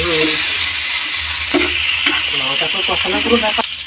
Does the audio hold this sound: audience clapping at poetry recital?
no